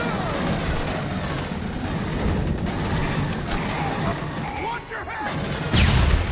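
Grenade blast and gunfire in the video game Aliens: Colonial Marines, a dense, continuous barrage of shots and booms with a heavier burst near the end, under excited talk.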